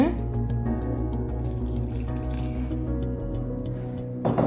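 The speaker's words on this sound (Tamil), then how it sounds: "தண்ணி ரவா தோசைக்கு கொஞ்சம் அதிகமாக விடணுங்க" Water pours into a bowl of rava dosa batter made with chopped onion, a continuous close splashing and gurgling that fades briefly at the end, with a voice speaking over it.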